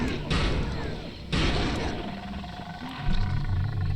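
Wild animal in Psychonauts letting out two loud, roaring bursts in quick succession over rumbling game noise, with a voice present.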